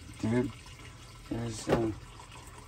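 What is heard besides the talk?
water draining out of a Chinese washing machine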